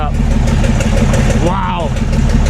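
An old tractor's engine running just after a key start, a loud, steady low idle with rhythmic chugging close by. Someone talks over it.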